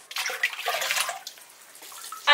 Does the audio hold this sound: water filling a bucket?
yes